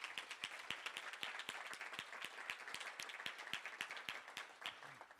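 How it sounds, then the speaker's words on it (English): Applause at a foundation's annual general meeting, crisp individual claps ringing out steadily over a softer bed of clapping across the room, fairly quiet overall. "I would like you to clap for them and welcome them"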